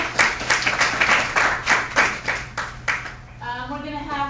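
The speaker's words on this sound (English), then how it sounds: "So we wanna give everybody a round of applause." An audience claps and applauds after a talk at a conference, a dense wash of many hands that fades out, followed by a voice beginning to speak.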